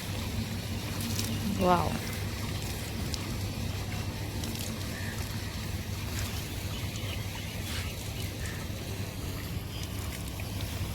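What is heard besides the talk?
water pouring onto potato plants in a garden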